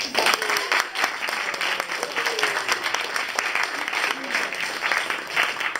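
Audience at a university final presentation gives a round of applause for student groups: dense, steady clapping that fills the whole stretch at an even level, with a few faint whistles or cheers mixed in.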